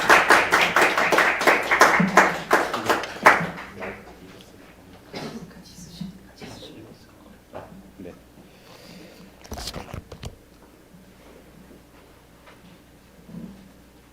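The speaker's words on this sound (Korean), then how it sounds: "박수로 환영 부탁드리겠습니다" A church congregation claps in a sharp, regular rhythm to welcome a missionary, with loud individual claps for about three seconds before they thin out into scattered taps. Speech follows in the quieter stretch.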